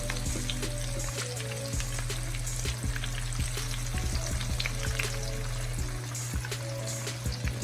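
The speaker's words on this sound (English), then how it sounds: "We're basically going to fry our shrimp until they are nice and golden brown." Coconut shrimp fry in a pan with a steady, dense sizzle and crackle, punctuated by occasional light clicks and shifts, close-up over a constant low hum, with no talking.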